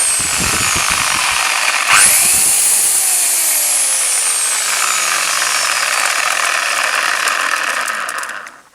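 A Makita electric chainsaw fitted with a 35 cm Stihl 180 bar spins up and runs with a loud, steady high whine and chain rattle, then winds down near the end.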